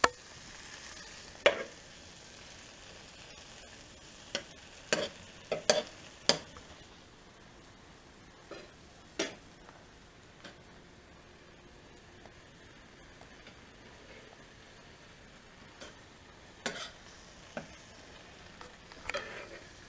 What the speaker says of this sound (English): Just keep stirring, stirring, stirring.